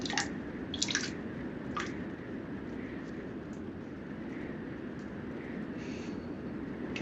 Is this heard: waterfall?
yes